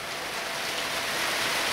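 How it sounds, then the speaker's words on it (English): A homemade hydrogen electrolysis test cell driven at 15 volts and about 21 to 22 amps bubbles hard, giving a steady, dense fizzing hiss with no voices. "As you can see, it's bubbling out a lot more now."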